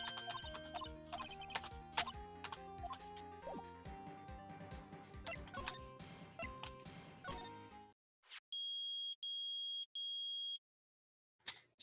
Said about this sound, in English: Nick, it's beeping. Metal detector found something